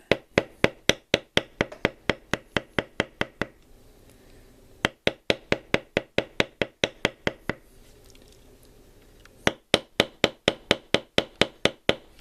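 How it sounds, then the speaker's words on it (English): A beveler tool is struck repeatedly with a mallet to bevel the edge of leather. The crisp, evenly spaced knocks come in three bursts of rapid blows, separated by short pauses. "Edge is beveled, right?"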